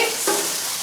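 A spoon stirs frozen corn and black beans in a hot pan, a short scraping stir over a continuous sizzle, close and alone.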